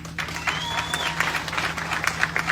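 Applause at a funeral gathering, a crowd clapping in a steady mid-level patter for about two and a half seconds, with a faint whistle rising through it and a low steady hum underneath.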